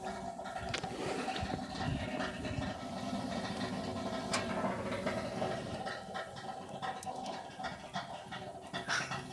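A wood-burner hot water heater with a roughly 60-gallon tank of steaming water snaps and pops steadily, with irregular sharp cracks over a continuous rumbling, bubbling wash and no talking.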